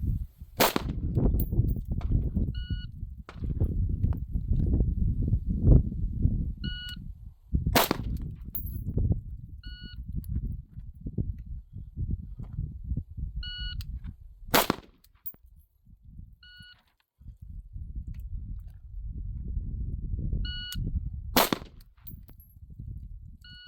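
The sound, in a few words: patrol rifle gunfire during shooting drill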